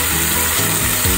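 A vegetable bhaji of red onion and coriander leaves frying in a pan, giving a steady close sizzle with soft stirring scrapes throughout.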